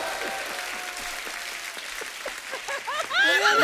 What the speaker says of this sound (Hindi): थार के लिए एक बार जोरदार ताली हो जाए।